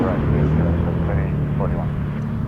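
An airplane at Toronto Pearson Airport rumbles with a low, steady engine roar, fairly loud and continuous, mixed with a faint radio voice in the background.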